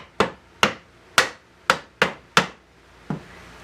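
A mallet taps screws into a wooden DVD cabinet: seven sharp, close knocks at an irregular, steady pace, the last one softer, with nothing else heard between the strikes.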